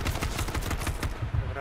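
Rapid gunfire in the video game H1Z1, a steady run of close, sharp repeated shots in quick succession with faint voices underneath.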